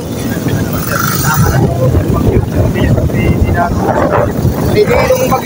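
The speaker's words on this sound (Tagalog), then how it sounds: "ang lakas ulan dito. Talaga, pati po Hangin." Heavy rain and strong wind on Cagbalete Island in Mauban, Quezon, make a steady, loud broadband roar that continues without a break, with voices talking over it throughout.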